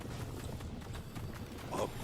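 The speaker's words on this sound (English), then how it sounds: "Enjoy the horses." Horse hooves clip-clopping steadily at a moderate distance through a game scene, with a low continuous background rumble and no talk.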